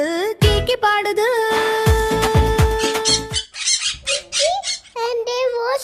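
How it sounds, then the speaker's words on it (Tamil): A parrot squawks in a Tamil children's song, with sung vocals around it and a bright, loud, repeated squawking burst near the start. "கிளி வந்து கீக்கி பாடுது."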